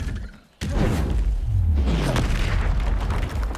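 A disarming spell cast in the Hogwarts Legacy video game lets out a sudden deep magical boom after a brief hush, followed by a rumbling, swelling whoosh that carries on loudly.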